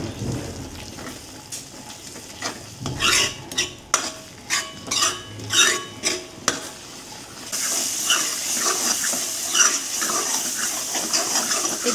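Chole masala being stirred and roasted in a pan: a spoon scrapes and clinks in quick irregular strokes, then a steadier sizzling frying hiss takes over, close and moderately loud, with no talking.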